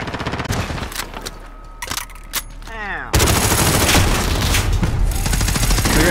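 Enemy sentry gun in a military shooter video game firing bursts of automatic gunfire, sporadic at first and then a dense, loud, continuous barrage with game sound effects layered over it.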